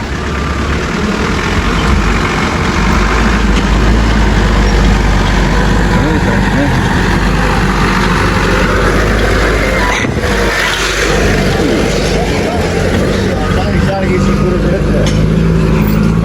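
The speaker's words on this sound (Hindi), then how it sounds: "ये चेक करें, गाड़ी आ रही है, लकड़ी की लगी है" A jeep loaded with wood works along a rough jungle track in Neelum Valley, its engine a loud, steady rumble that continues throughout with slight surges, mixed with outdoor noise.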